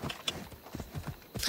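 Horse hooves clip-clop in a quick rhythm in the Assassin's Creed Odyssey video game, a short run of soft, fairly close hoof beats with a brighter burst near the end.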